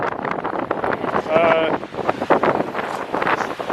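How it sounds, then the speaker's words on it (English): Strong wind of about 20 miles an hour buffets the microphone on Chesil Beach in cool December weather, a steady roaring rush under and between people talking. "Conditions is 20-mile-an-hour wind."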